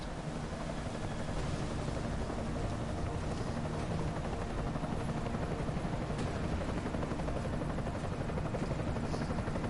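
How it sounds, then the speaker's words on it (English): An enemy helicopter in Deus Ex: Mankind Divided gives off a steady, dense rotor drone. The thrum runs unbroken and fairly loud from start to finish with no voices. "Enemy helo sighted."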